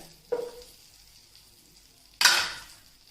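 Butter hitting a hot sauce pan, two short bursts of sizzling a couple of seconds apart, the second sharper and louder before fading into a faint crackle, with no talking.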